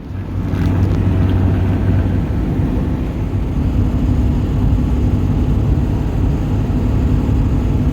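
A truck pulling away on a camping trip, with a steady engine rumble and road roar heard from inside the cab, loud and unbroken throughout.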